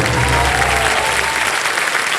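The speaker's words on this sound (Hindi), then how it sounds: "जोरदार तालियां" Loud studio audience applause on the Hindi quiz show Kaun Banega Crorepati, a dense wash of clapping that fills the room for about two seconds with a low musical swell underneath.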